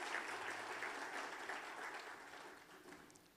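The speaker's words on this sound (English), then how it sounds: "can we have some applause for Aarti and Vaibhav?" Faint, steady applause fills a hall after a Kuchipudi dance performance at a Chicago arangetram, the clapping fading slightly toward the end.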